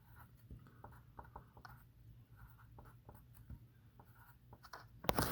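Marker or chalk writing on a board during a pre-algebra math lesson, faint scattered scratching strokes in short bursts, quiet and somewhat distant, ending with a louder clatter.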